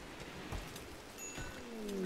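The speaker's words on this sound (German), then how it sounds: "Und da es ja so fleißig regnet" Rain falling in the colony-building video game RimWorld, a faint, steady patter of drops on a surface throughout with no other sounds.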